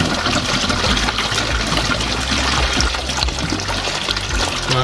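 Hot water runs steadily while a Fiat 500's cooling system is flushed, a constant close rushing trickle with no pauses and no talk.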